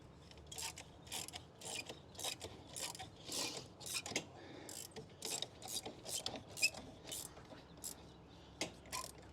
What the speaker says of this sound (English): the next step for us is to insert the X-Chocks. We put these in between the tires